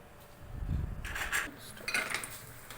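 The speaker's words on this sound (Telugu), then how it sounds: "మినవు వడియాలు మొన్న వీడియో తీశాను కదా ఇప్పుడు వేయించుతున్నా చూడండి" Urad dal vadiyalu frying in a pan, heard as a low rumble followed by metallic scraping and clinks of a utensil against the pan, close and without speech.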